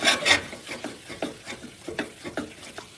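A spoon stirs and scrapes thick choux pastry dough in a pan with quick rhythmic strokes and a faint sizzle underneath.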